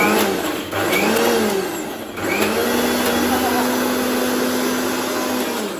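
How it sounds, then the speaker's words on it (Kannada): A kitchen mixer grinder whirs steadily while grinding obbattu filling, a loud continuous motor drone with brief dips as it starts and stops. "ಮಿಕ್ಸಿ ಬಟನ್ ಹೋಗಿರೋದ್ರಿಂದ ಡೈರೆಕ್ಟಾಗಿ ಬಟನ್ ಯೂಸ್ ಮಾಡ್ತೀನಿ."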